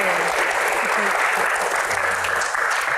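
Audience at a Q&A event applauds a singer, a thick, steady roar of clapping from a large crowd, with faint voices mixed underneath.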